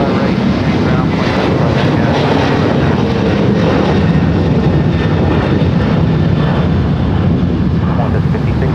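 Qantas heavy jet airliner departing Los Angeles International Airport, a loud, steady engine roar that fills the whole stretch with broadband rumble and wind buffeting, while radio voices talk over it.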